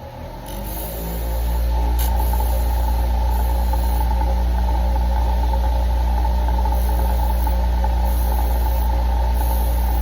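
A Dremel rotary tool spins up from rest to a loud, steady high-pitched whine while polishing the bevel of a steel broadhead, holding a constant drone for the rest of the stretch.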